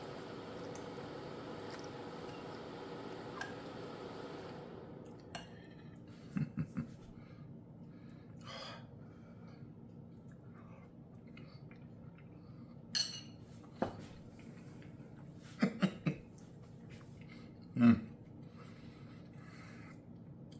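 Metal fork clinking and scraping against a plate of pasta all'Amatriciana, a few sparse, light taps and short scrapes over a quiet kitchen background.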